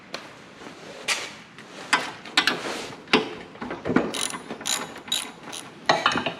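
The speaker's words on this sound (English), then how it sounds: "I'm going to pull that spark plug out again." A ratchet wrench pulls the spark plug from a Toro snow blower, ticking in short, uneven bursts of close, crisp clicks with brief pauses between strokes.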